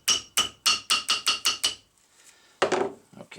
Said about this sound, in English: I'm using the rotor as an anvil.